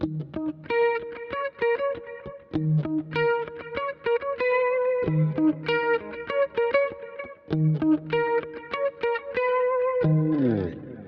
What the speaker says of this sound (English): This is the clean sound, and here we are with the high gain sound.